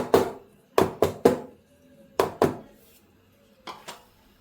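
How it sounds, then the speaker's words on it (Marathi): A container of dhokla batter is tapped against a surface to knock out air bubbles, producing seven sharp, close knocks in irregular pairs and singles with short ringing decays between them. "त्याच्यातली जी एअर आहे ते असं टॅप टॅप करून काढून घ्यायची आहे."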